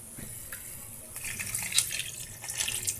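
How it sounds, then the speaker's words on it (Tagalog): Tap water runs into a cooking pot being filled for boiling clams, a close, steady splashing stream whose bubbling rises in pitch and grows louder as the level climbs. "Tapos, lalagyan natin ng tubig."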